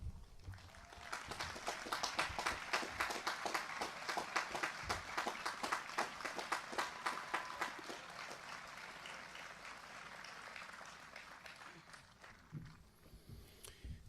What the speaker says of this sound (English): please stand and let us recognize you with a well-deserved round of applause